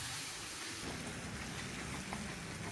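Steady broadband sizzling and crackling of ginger and mango frying in a pan over a low flame, continuous and fairly loud throughout with no talking.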